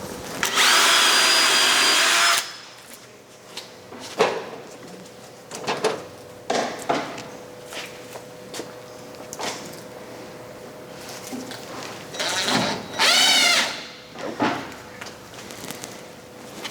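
A power drill runs in a long loud burst on a wooden catboat plank in a boatbuilding shop, followed by shorter clicks, knocks and a second brief whirring run.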